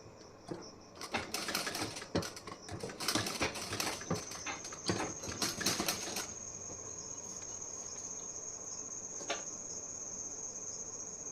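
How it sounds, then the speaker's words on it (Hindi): Close by, a sewing machine stitches a blouse in a quick irregular run of rattling clicks. It goes quiet at about six seconds, leaving a thin steady whine and one more brief click. "अब यहाँ पे मैं स्टिचिंग कर दूँगी"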